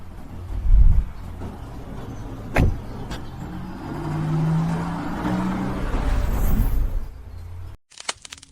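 A car driven by a private chauffeur, its engine murmuring and swelling as it moves off, with a few thumps and clicks and an abrupt cut near the end, no talk.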